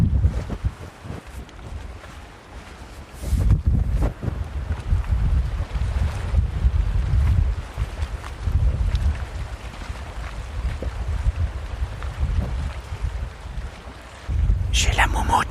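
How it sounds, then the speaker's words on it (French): Gusts of wind buffet a furry microphone windscreen outdoors, a continuous low rumble that rises and falls throughout and grows stronger near the end. "Je sais pas si on va entendre le vent."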